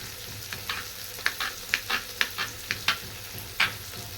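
Onions frying in a pan, a soft, steady sizzle broken by repeated sharp scrapes and taps of a spatula every half second or so, with no voices.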